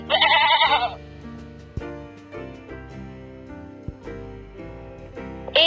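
A goat bleats loudly at the start of a children's phonics song, then a cheerful tune carries on with another short bleat at the very end.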